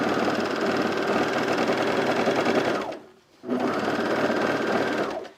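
A cover stitch sewing machine stitches fabric with a steady, loud mechanical whir, stopping briefly for a short pause before running again at the same pace, close up with no talking.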